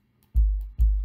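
Kick drum sample with its transient removed, played twice; each hit swells in as a deep, rounded low thump without a snappy click, then fades in a long tail, heard alone.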